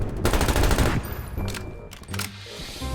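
Shotgun fire in the video game Call of Duty Black Ops Cold War, a burst of rapid loud blasts followed by a few sharper separate shots, with faint game ambience behind.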